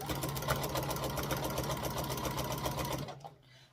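A sewing machine quilts a large quilt sandwich along a marked line, running in a fast, steady mechanical whir for about three seconds before stopping abruptly.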